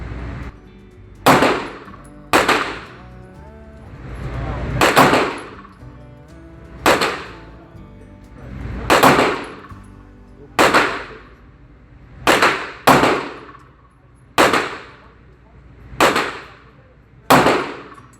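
Sig Sauer P229 pistol fired on a range, about a dozen sharp, loud, well-spaced shots with pauses between them, each crack ringing briefly.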